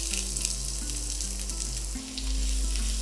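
Chopped onion sizzles continuously in a hot pan, a dense frying hiss close up and alone, over a low steady hum.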